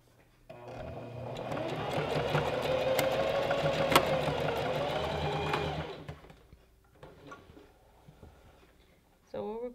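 Sewing machine running a steady close whir for several seconds as a folded dress seam is sewn down, its motor pitch gently rising and falling before it stops and quieter handling noises follow.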